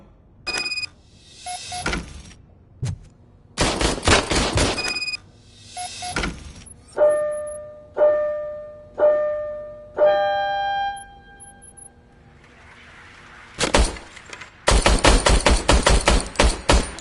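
An old service pistol is test-fired in a Robocop game, with loud bursts of rapid shots and single cracks broken up by ringing mechanical clicks and pauses, with no talk.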